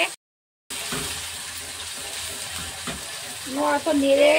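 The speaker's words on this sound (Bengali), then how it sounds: "ভালো করে মিশিয়ে নিতে হবে, নেড়ে" Yogurt stirred into a cauliflower roast in a pan, giving a steady close sizzle with soft scraping of a spatula after a brief silent gap, and a few clinks near the end, no talk.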